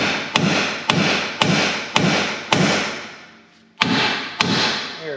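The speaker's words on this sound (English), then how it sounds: "we're going to release this upper ball joint from the knuckle there by whacking on" Heavy hammer blows strike the upper ball joint and steering knuckle on a Dodge Ram truck, about seven sharp metallic whacks in a steady rhythm with a short pause before the last two, loud and close, no talking.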